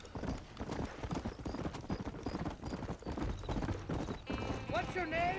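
Horse hooves clip-clop steadily in the video game Red Dead Redemption, a continuous rhythmic trot under game dialogue, with a whinny near the end.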